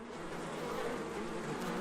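Thousands of honeybees hum at a hive, a dense continuous buzz that stays steady and fairly quiet, with no voices.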